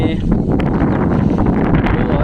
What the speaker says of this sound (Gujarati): વાયરો છૂટ્યો છે એટલે પવન પણ સાથે ચાલુ છે